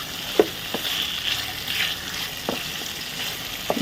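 Masala for an egg gravy curry sizzling in a pan, a steady close frying hiss broken by a few sharp stirring clicks and scrapes.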